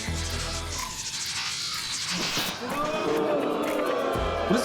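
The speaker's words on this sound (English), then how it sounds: "What is everyone booing at?" A large audience at a gaming festival award presentation gives a sustained, broad wash of jeering crowd noise, loud and continuous throughout.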